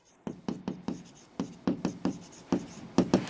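Pen or marker writing out an equation on a board in a maths lesson, a steady run of rhythmic taps and short strokes, close and fairly loud, with no talking.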